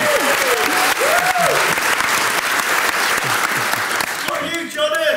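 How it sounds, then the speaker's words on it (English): Loud live audience applause and cheering at a Dungeons & Dragons comedy show, a steady dense clapping wash throughout with whoops, and voices talking over it near the end. "You're getting upset again that people aren't cheering enough for Corathon."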